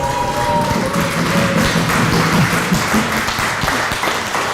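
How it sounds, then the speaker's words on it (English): Audience applause at a bunq company weekly update event, a dense steady wash of clapping that fills the whole stretch at close range with no talk over it. "Normally, I don't get this applause."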